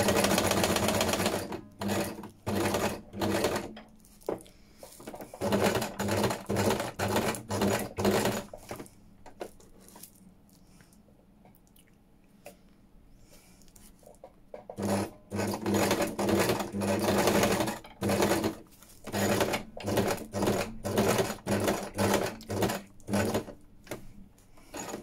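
A sewing machine stitches tissue paper onto a fabric junk journal cover topper, running in two long bursts of rapid, even needle strokes with a quieter pause between them, close by and alone.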